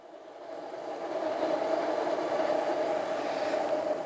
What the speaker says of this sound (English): Don't mind if I pause while these trains come in.